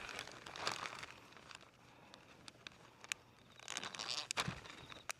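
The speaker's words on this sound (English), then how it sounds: "I grab a big plastic bag" A large plastic bag being grabbed and handled outdoors beside a camper toilet, quiet crinkling and rustling in short bursts with a few sharp crackles, then a louder flurry of crumpling near the end.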